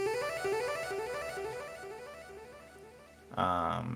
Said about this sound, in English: this is just a ARP with a bunch of delay on it